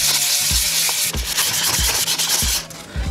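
A scooter deck is sanded by hand, with loud, close, rhythmic rubbing strokes repeating steadily and no talk.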